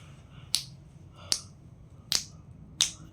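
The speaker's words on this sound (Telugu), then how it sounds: "వాడు సంబరంగా చిటికలు వేసుకుంటా పోతా ఉంటే" Four crisp finger snaps, evenly spaced and close, each a sharp isolated click over a quiet background.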